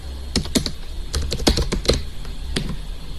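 Typing on a computer keyboard while entering data into statistics software: a close, quiet run of separate key clicks in irregular bursts, with short pauses between groups of strokes.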